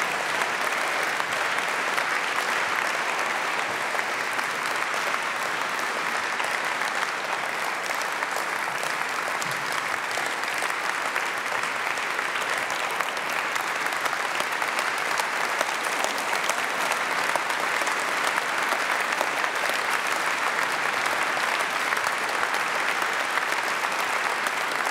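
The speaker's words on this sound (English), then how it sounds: "Give them an applause." Sustained audience applause fills a large hall at a children's peace prize ceremony, a steady dense wash of clapping at even loudness throughout, with no voices standing out.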